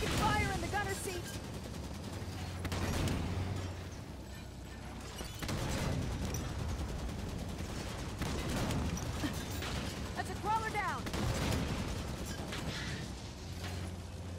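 Halo 5 battle gunfire around a Scorpion tank, rapid bursts and repeated shots mixed with mechanical clanks and game sound effects, continuing through the scene under occasional voices.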